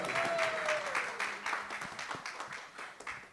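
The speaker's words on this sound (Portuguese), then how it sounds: "Uma salva de palmas, por favor." Audience applause at a Black voices panel on content production, a steady crowd of clapping hands that fades slightly toward the end, with a brief tonal sweep near the start.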